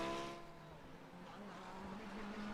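Race car engine drones steadily around the track at the 6 Hours of Imola endurance round in a racing video game, a continuous mid-level tone with a rising harmonic toward the end and no talk over it.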